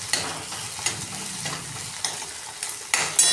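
Green chillies, ginger-garlic paste and curry leaves sauté in a hot pan with a steady close sizzle, broken by a few sharp clinks and scrapes of a stirring spoon against the metal.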